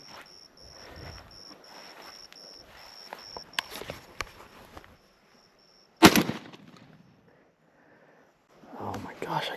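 A single loud, close gunshot on a dove hunt cracks out midway, over a steady background of chirping crickets, with soft whispering and rustling before it.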